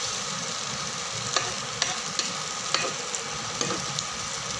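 Cucumber adai flipped over and frying in a little oil on a pan, giving a steady sizzle with occasional small crackles and pops, close up and without talk.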